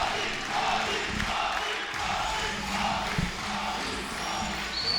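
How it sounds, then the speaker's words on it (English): A raucous tournament crowd at the Street Fighter V top-8 finals roars and yells steadily throughout, dense and sustained, with scattered shouts rising out of the noise. "But listen to this crowd."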